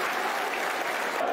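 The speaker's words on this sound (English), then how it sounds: "Hopefully the family gets some solace from that round of applause here at the den." Steady, dense applause from a football stadium crowd at the Den, Millwall versus Norwich City, an even roar of clapping with no pauses.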